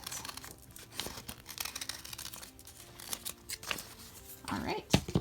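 Scissors snip and crinkle through paper to cut out a heart shape for a DIY Valentine's jar lantern, with soft rustling throughout and a few sharper cuts near the end, close and fairly quiet.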